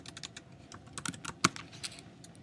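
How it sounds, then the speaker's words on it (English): Fast, light typing on a computer keyboard to enter a word, a short run of close clicking keystrokes with one louder press near the middle. "or I'll just type in airplane."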